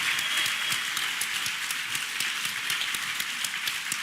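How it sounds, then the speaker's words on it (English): Steady applause from a convention panel audience for guests on a Dragon Ball Z anniversary panel, dense clapping sustained evenly throughout with no talking. "So I want to give these guys a round of applause for their time on our panel here today."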